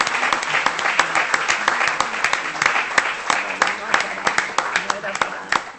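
Audience applause at a talk by a ninety-year-old writer, a steady patter of many hands clapping close and fairly loud throughout, with a few sharper individual claps standing out.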